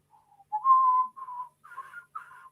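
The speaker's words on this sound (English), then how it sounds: "Oh, I can't whistle this morning." A person whistling a short tune, a few clear sustained notes then shorter wavering ones, close and alone with no talk.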